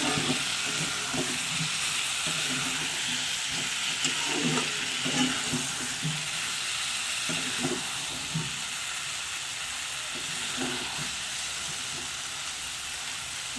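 A pot of new-potato curry (aloor dum) with peas cooks over the heat with a steady, close sizzle and hiss, broken by irregular knocks and scrapes of stirring throughout.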